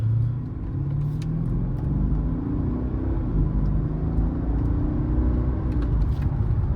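A 2012 Mercedes-Benz S550 cruises through a turn, its cabin filled with a steady low engine and road rumble, smooth and unbroken, with faint light ticks on top and no talking.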